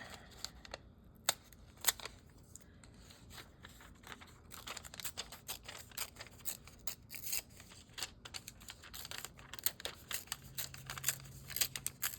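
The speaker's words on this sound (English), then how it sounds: "I'm going to tear these" Paper is torn by hand at a gluebooking table, heard as quiet, close rips and crinkles in irregular bursts, with some faint clicking and handling noise in between.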